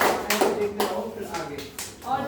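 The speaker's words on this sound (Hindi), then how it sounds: "ताली बजाओ।" Schoolchildren in a primary school classroom clap their hands during an action song, a few quick rhythmic bursts of claps mixed with voices talking.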